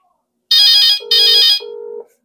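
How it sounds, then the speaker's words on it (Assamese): A phone rings loudly with an incoming call to a landline, an electronic ringtone in two bursts followed by a steadier lower tone, close and alone without speech. "এয়া ফোন আহি আছে"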